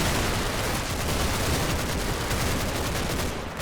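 Dense, continuous machine gun fire from the Combat Mission: Battle for Normandy war game, a loud unbroken roar of overlapping shots and rumbling battle noise lasting throughout.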